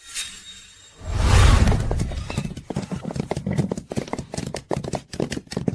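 Horse galloping away in a period drama, hooves clip-clopping in a quick irregular rhythm after a rushing whoosh, fairly close; no clear neigh stands out.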